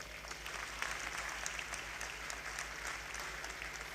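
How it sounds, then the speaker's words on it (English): An audience at a university convocation for bachelor's degrees applauds steadily, a dense even wash of clapping held at a moderate distance throughout. "I think that deserves an applause."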